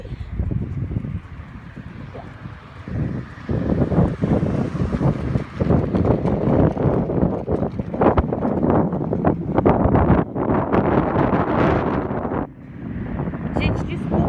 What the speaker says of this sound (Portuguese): Desde ontem tá ventando muito aqui. Um vento bem forte